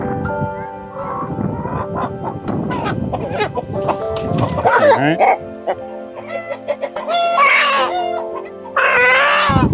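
Chickens of a very tall breed, held in a container, cluck and squawk loudly up close, with a rooster-like crow and shrill calls toward the end; a voice briefly speaks.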